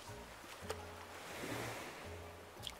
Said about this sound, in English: Enjoy the relaxing sound of the waves.